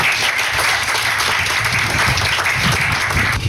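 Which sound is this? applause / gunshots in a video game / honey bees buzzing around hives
applause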